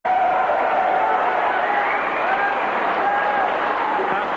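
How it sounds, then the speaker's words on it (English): A snooker crowd cheers and applauds a 147 maximum break by the world champion, a loud, dense, continuous roar of clapping and cheering that holds steady throughout. "Well, the crowd absolutely loved that one."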